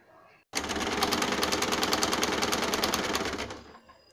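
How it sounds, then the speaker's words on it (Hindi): An electric sewing machine stitches a gown sleeve to the body, the gown cut from an old saree. It starts abruptly into a fast, even rattle of clicks, runs steadily for about three seconds, then stops. "बस यहाँ कॉर्नर से मिलाते हुए आपको सिलाई कर लेनी है पूरे एंड पार्ट तक।"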